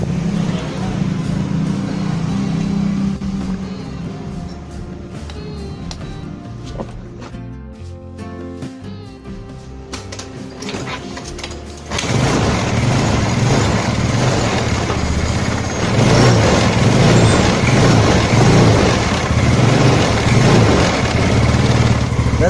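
A Yamaha Mio Sporty scooter engine fires up after a carburetor needle repair, moving from quieter workshop sounds to a loud, close, sustained idle, with a voice talking.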